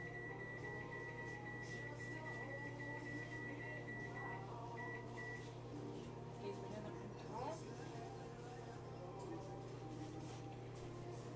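Microwave oven running a 15-minute cooking cycle, a steady hum with a continuous tone throughout and faint kitchen noises.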